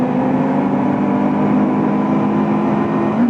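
A voice imitates a motorcycle engine with a loud, sustained buzzing drone, held steadily for a few seconds over real engine noise from a Kawasaki Ninja 250 being ridden.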